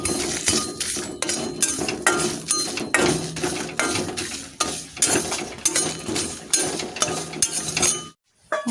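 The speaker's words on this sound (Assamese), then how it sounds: "আৰু এই গোটেই মছলাখিনি মই এতিয়া শুকান কেৰাহী এখনত অকণমান সময়ৰ কাৰণে গৰম কৰি ল'ম" Dry whole spices rattle and scrape against a hot, dry iron kerahi wok as they are stirred and roasted, a close, busy clatter of repeated metallic clinks and scrapes that goes on steadily before stopping abruptly near the end.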